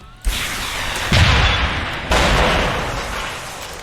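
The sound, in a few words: rocket launcher fired in video game Deus Ex: Human Revolution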